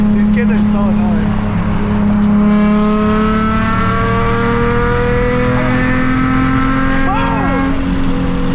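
A loud Nissan 350Z engine revs and holds steady harmonic tones that rise and fall through the gears, with tire noise underneath, heard from inside the car while people talk over it.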